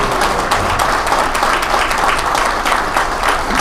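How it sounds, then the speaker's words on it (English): A large audience at a State of the State speech in Portsmouth applauds honoree Jay Gibson, with loud, dense, sustained clapping that fills the room evenly, close and continuous, with no talking over it. "give Jay Gibson a round of applause"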